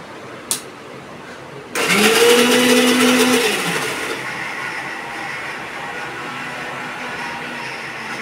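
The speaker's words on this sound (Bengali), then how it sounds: "আর অনেকবার ব্লেন্ড করা লাগবে।" A blender whirs loudly as it purées boiled eggs and oil into homemade mayonnaise, starting abruptly after a brief click and running about two seconds at full pitch before easing into a steadier, quieter hum.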